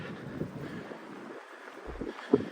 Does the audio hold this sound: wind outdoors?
yes